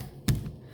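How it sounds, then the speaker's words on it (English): A lid on a Living & Co, Midea or Eurotech 5.5 kg top loader washing machine closes with a single dull, soft thud, close by and fairly quiet. "close the lid"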